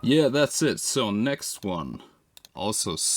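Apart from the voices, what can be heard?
None of the usual background noises is heard.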